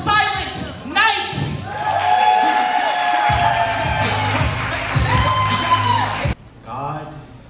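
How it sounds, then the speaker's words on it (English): Audience at a poetry slam cheering, whooping and clapping for the next poet, a loud lively roar of shouts lasting several seconds before dropping away. "please put your hands together for Silent Night"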